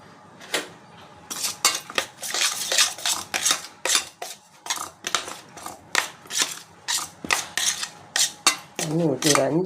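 Red rice puttu flour and salt are mixed in a bowl, with a spoon scraping and clinking against the bowl in quick, uneven strokes.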